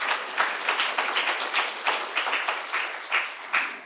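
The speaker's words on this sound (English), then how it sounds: "you need to give a thundering applause to your parents" Audience applause at an Indian school graduation ceremony, 2021–2022: steady, even clapping from a sizable crowd, moderately loud and slightly distant, holding a regular pulsing texture throughout.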